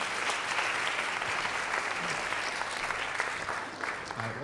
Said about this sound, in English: I think a round of applause for volunteering.